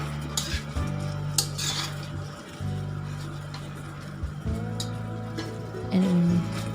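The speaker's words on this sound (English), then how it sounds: "Then give it a stir." Coca-Cola chicken wing sauce is stirred in a pan, thickening and seasoned with white pepper, a spoon or utensil scraping and clinking against the metal in steady repeated strokes over a low cooking hum.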